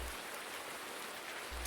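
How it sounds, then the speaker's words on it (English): Rain falls in the farming video game Farming Simulator 19, a constant soft hiss of droplets with a low thump at the start and end, faint and alone without talk. "Look how you can slow down the raindrops."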